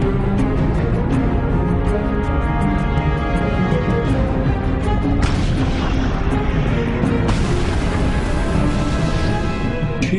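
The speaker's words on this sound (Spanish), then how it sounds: "Justo después disparé y explotó." A tank gun fires during the Battle of Kursk and its shell explodes, heavy booms and crashes rolling over a dense, constant rumble of battle.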